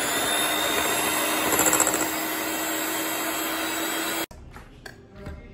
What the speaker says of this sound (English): Gonna use my mixer.